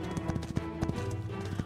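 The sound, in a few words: horse hooves and whinny in Totally Accurate Battle Simulator video game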